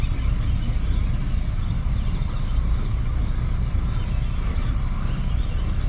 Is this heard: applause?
no